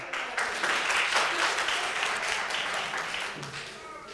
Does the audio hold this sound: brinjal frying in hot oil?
no